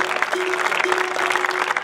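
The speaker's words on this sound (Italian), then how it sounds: "Grande applauso per Fabio" Applause rings out for Fabio at the 2018 Villacidro Skyrace prize-giving ceremony: a dense, steady wash of many hands clapping at even loudness throughout, with a faint sustained tone running beneath it.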